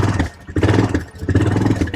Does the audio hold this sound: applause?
no